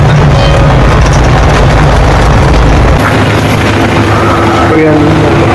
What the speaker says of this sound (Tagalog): Ito ang makina natin.